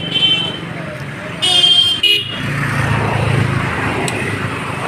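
Busy main road outside the Barbil market, with steady traffic rumble, a loud horn blast midway, and further short honks as vehicles pass close by.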